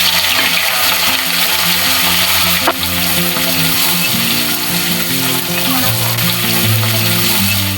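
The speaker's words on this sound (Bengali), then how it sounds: "তাই 2 পাশ হালকা গোল্ডেন কালার হওয়া পর্যন্ত ভেজে তুলে নিচ্ছি।" Prawns frying in hot mustard oil for a Bengali malai curry, a loud continuous sizzle with occasional soft stirring clinks, close up and uninterrupted by speech.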